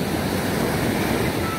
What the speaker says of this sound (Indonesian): Ombak ya, ombak di Pantai Padang ini.